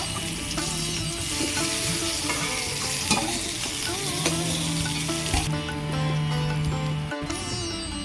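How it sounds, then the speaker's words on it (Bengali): Potatoes frying in hot oil in a pan, a dense continuous sizzle close and loud with occasional stirring clinks, no voices. "আলুগুলো ভেজে নেব"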